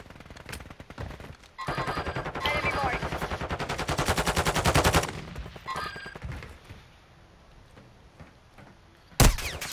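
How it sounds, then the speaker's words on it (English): Automatic gunfire in Call of Duty: Modern Warfare II, a long close burst of rapid rhythmic shots that stops abruptly, then quieter distant pops and one sharp loud crack near the end. "Taking effective fire!"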